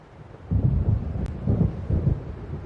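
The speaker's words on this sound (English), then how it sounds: "It seems there's a storm coming." Low rolls of distant thunder from an approaching storm out over the sea in a video game, with several rumbling swells and no talk.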